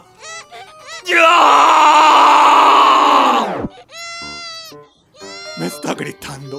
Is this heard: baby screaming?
yes